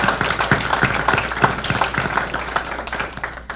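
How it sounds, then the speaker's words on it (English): Applause for School District 5 at a school board meeting fills the room, a dense steady patter of many hands clapping at close range, thinning out toward the end. "join me in a round of applause for School District 5"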